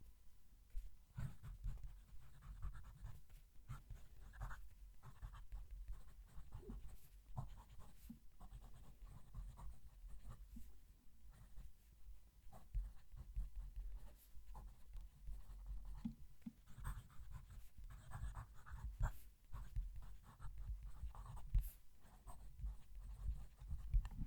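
A fountain pen nib scratching across paper with the mic at the page, faint close-up scritching strokes in an irregular steady rhythm, quiet and continuous.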